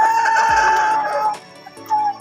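A brooding hen clucks up close, a short burst of clucks and a rising call, then quieter clucking toward the end.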